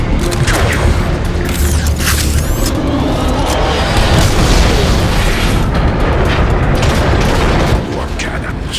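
Cannon fire booms through a dense, loud battle in Transformers: Fall of Cybertron, heavy blasts and rumbling debris layered over one another, with speech mixed in.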